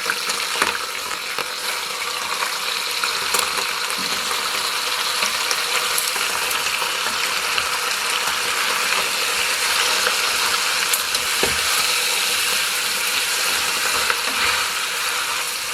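Chopped onion frying in a pan for a hare stifado, a continuous loud sizzle and crackle with scattered sharper pops, steady throughout with no voices.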